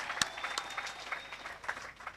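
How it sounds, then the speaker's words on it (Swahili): An audience at the inauguration of a college in Temeke claps, a moderately distant, scattered patter of hand claps with sharper individual slaps standing out at a few points. "jipeni makofi, mmejenga chuo kinachopendeza"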